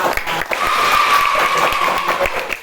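Students in a classroom applaud a classmate, steady dense clapping throughout with a brief pause near the start, a voice briefly audible underneath.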